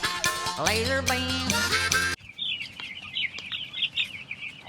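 High, rapid chirps and peeps from a group of chicks in a brooder, continuous and fairly close, following a loud burst of music that cuts off abruptly.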